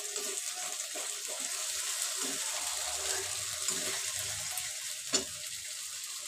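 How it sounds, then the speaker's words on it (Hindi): A plate stained with red vegetable curry is washed under a running tap, giving a steady faint hiss of water with scattered clinks and scrubbing sounds and one sharper knock near the end. "थरिया धोना होगा ना, उसमें लाल लाल पानी लगा हुआ सब्जी का"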